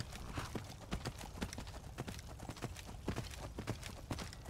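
Horse hooves clip-clopping in Skyrim, a steady trotting rhythm of hoofbeats over a low background, fairly quiet and with no voices.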